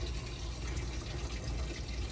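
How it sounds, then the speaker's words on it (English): Water flows steadily from a pump into a container, a soft, constant gushing wash heard faintly and alone. "you can see the water flowing into that pretty well"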